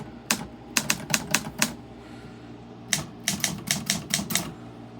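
An antique foreign-made typewriter being typed on, two bursts of crisp, rapid key strikes separated by a short pause, close and fairly quiet with no talking.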